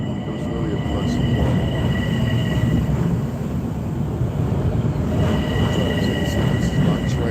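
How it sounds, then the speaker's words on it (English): Train arriving at a station, a continuous rumble of rolling railcars with faint wheel squeal, people talking nearby over the noise. "This is my train."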